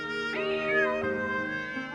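A cat meows in one drawn-out, wavering call that rises and then slides down, close and clear over a steady background bed, in a children's fairy tale.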